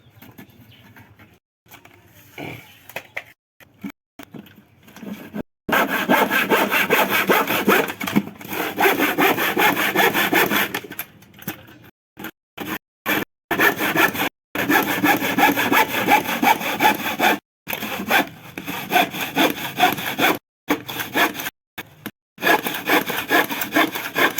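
Handsaw cutting through a wooden board for a rabbit nesting box, close and loud, with steady back-and-forth strokes in bursts separated by short pauses.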